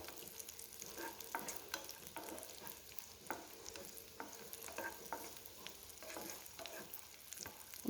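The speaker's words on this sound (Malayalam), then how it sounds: "നെയ്യിൽ നല്ലത് പോലെ തന്നെ ഒന്ന് വറുത്ത് കോരിയെടുക്കാം" Steady crackling sizzle of raisins frying in hot ghee, with occasional sharper pops and light stirring clicks throughout.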